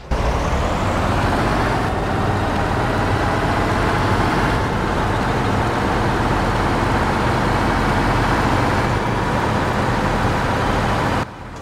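Truck engine in the Farming Simulator game, driving steadily at up to 49 mph, giving a constant loud droning roar with a few brief dips that sound like gear shifts, and no talking.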